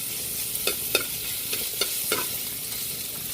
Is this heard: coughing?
no